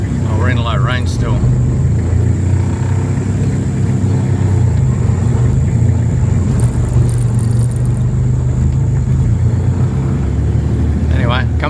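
A 20-year-old truck driving in low range, its engine a steady low rumble close by, with someone talking over it at the start and end.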